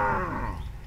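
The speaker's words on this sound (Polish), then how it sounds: "Tutaj krowa głośno muczy" A cow on a village farm lets out a loud, drawn-out moo that fades over about a second, close and clear with no talking.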